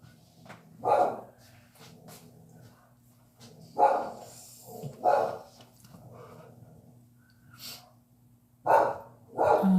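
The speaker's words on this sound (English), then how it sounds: "my dog's going crazy" A dog barks in short bursts at irregular intervals, single and doubled woofs fairly close over a quiet indoor hum, with no talk in between.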